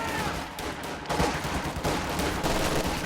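Machine gun and battlefield gunfire in the World War II strategy game Company of Heroes 2, a dense, continuous rattle of shots with louder bursts toward the end, loud and close.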